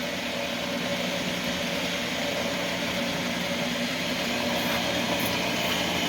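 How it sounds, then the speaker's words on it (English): A Van Norman 777S two-speed milling machine runs on auto feed with a dense, steady mechanical roar and hum, loud and unbroken throughout with no voices. "And the auto feed is working the way it should."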